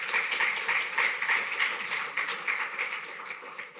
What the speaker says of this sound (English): Can we please give the Minister another round of applause?